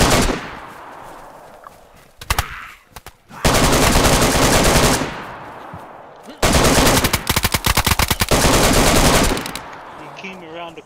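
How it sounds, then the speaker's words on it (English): Rapid bursts of automatic gunfire in the survival game DayZ, two long sustained volleys separated by shorter shots and quieter gaps, loud and close. "who's shooting suppressed right now, bro?"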